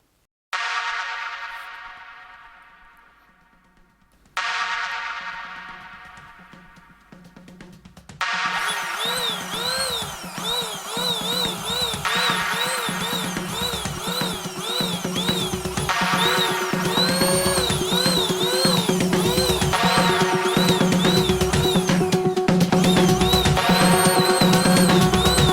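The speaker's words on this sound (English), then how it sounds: "there's some action of the Hurricane 2 Canless Air Blower" A Hurricane 2 canless air blower clears dust from an old PC: two short whining bursts spin up and fade, then a loud, continuous high-pitched whine follows, wavering in pitch.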